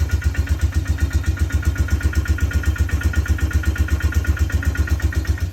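A quad bike engine idles close by, a steady, even chugging pulse of low thumps repeating evenly with no other sounds over it.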